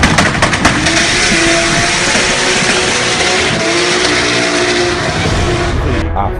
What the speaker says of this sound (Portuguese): o torque desse carro é excepcional